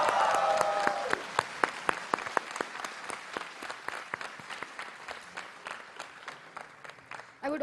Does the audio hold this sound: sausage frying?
no